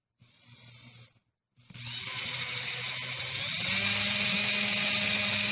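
After a short low hum and a brief gap, the new motor of a Gerard Morin pump on a speed control spins up into a loud, steady high-pitched whine that climbs in pitch and holds, alone and close.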